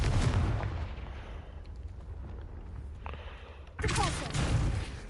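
Confringo fire spell in the video game Hogwarts Legacy: a loud, booming blast that fades into a rumbling tail, then a second sharp explosive burst a few seconds later.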